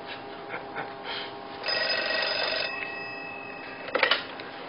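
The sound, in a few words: telephone ringing, wife calling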